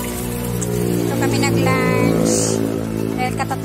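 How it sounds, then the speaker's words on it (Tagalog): Water from a waterfall in front of a restaurant makes a steady rushing patter, with voices and other people talking and some humming in the background. "may falls sa harap niya"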